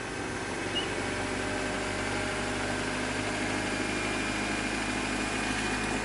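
A Honda car engine with a failing alternator idles after start-up, a steady low hum and faint whine held evenly throughout, with no talk.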